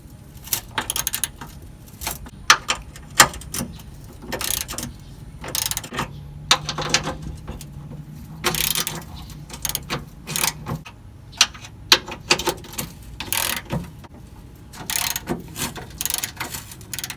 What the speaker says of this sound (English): We're going to be loosening this bolt, and this bolt.